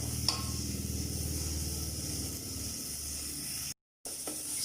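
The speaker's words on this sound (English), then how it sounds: "Nothing, it's still frying." Ginger garlic paste frying in a pan in a home kitchen in Goa, India, giving a steady, close sizzle and hiss that continues throughout with a brief dropout near the end.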